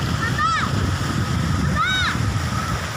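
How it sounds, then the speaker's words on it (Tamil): Water overflows from a full lake as a constant rushing, splashing wash, loud and close throughout, with brief chirping sounds over it. "நிறைஞ்சி தண்ணி ஃபுல்லாக வெளியே வருது"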